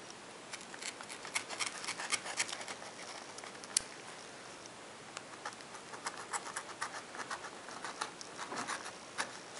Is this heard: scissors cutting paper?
yes